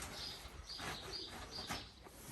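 Pigeon cooing softly inside a straw-lined box, a few low murmuring coos repeating over a faint background hiss, close by with no talking.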